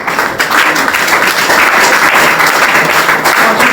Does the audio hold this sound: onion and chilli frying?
no